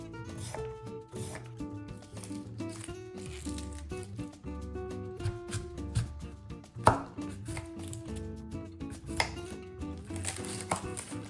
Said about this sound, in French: on coupe des légumes un peu au hasard, en gros cubes